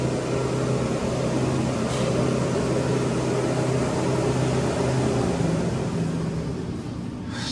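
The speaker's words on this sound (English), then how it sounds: "Bit of bearing noise." A steady mechanical hum and whirr from an old elevator drive machine with worn bearings, continuous and fairly loud with a low droning tone and faint rumbling underneath.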